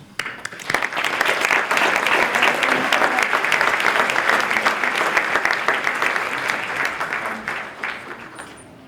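A full audience breaks into sustained applause to welcome a performer onto the stage at an MLK 2020 event, a dense, loud wash of clapping that holds steady for several seconds before tapering off.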